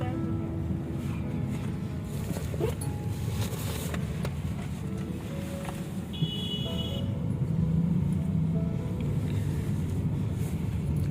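Car interior while driving on a hot day, with a steady low engine and road rumble throughout and faint rattles and clicks, without clear talk.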